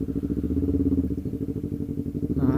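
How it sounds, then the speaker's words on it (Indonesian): A Honda CBR 250RR motorcycle idles while warming up, its engine running close and steady in a low, even, pulsing rumble with no talk over it. "sambil manasin motor"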